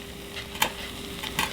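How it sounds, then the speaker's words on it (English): Thick, chunky cheddar ale sauce being stirred in a pan as it heats, with soft scraping strokes and a few brief louder clinks of the spoon against the pan, fairly quiet and close, no talking. "Just keep stirring as it heats up."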